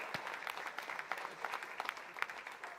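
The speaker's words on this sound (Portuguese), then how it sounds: "Aleluia, aplaude o Senhor." Church congregation applauding during a Sunday morning service, a steady patter of many hands clapping at moderate distance, quiet overall and without talk.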